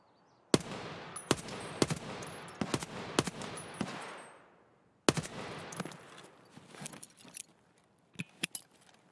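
Gunfire in the Escape from Tarkov game on the Customs map: loud, close shots in rapid bursts with ringing decay, a brief gap, then more scattered shots trailing off.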